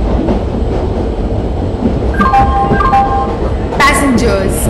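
A passenger express train arriving at a platform in the Indian Train Simulator game: a loud continuous rolling rumble with a squealing high whine and sharp metallic screeches as it slows.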